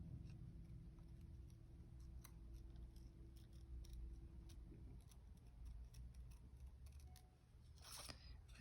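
Small scissors fussy cutting a paper butterfly, a quiet run of close crisp snips and clicks at irregular intervals, with a faint steady hum underneath.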